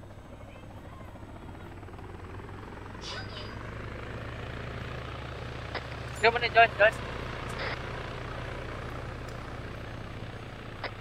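A helicopter in the military video game Arma 3 drones steadily with a continuous rotor hum throughout, while players talk over voice chat on top of it.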